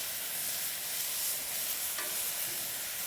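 Breakfast food for a full English fry-up, including back bacon, sizzling on a new grill, a steady close hiss of frying with a faint scrape of stirring, no voices.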